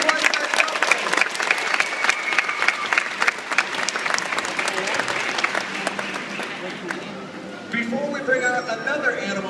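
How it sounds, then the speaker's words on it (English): Audience applause at an aquarium dolphin show, loud continuous clapping from a large crowd with some voices mixed in, easing slightly before a fresh burst of cheering and clapping near the end. "How about a big round of applause"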